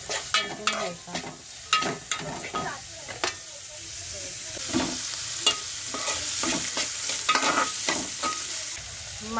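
Onions sautéing in a pan, a steady sizzle broken by frequent scraping stirs and clatters, close and moderately loud throughout.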